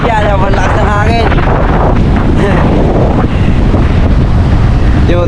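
Strong storm wind roars over the sea at a river mouth, buffeting the microphone in a loud, unbroken rush. Excited voices shout over it at the start and again at the end.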